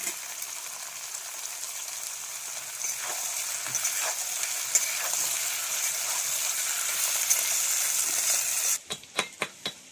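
Chopped tomatoes sizzle steadily in a pan of jackfruit curry, a close, continuous frying hiss that runs alone for most of the stretch before ending in a few sharp knocks near the end.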